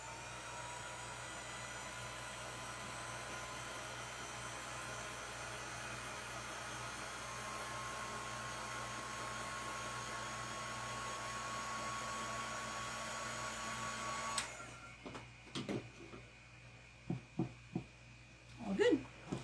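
A hair dryer is blown over touched-up paint spots on a craft plaque, a steady whirring drone that runs for about fourteen seconds, then cuts off and gives way to talk and handling noises.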